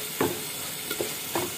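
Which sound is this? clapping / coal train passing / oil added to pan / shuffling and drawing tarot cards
oil added to pan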